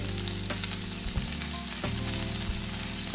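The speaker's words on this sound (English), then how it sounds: "We're going to stir fry the vegetables for about 5 to 10 minutes" Vegetables stir-fry in a hot pan for a pork belly stir fry, a dense continuous sizzle with a steady hiss and occasional scraping stirs, close and loud with no talking.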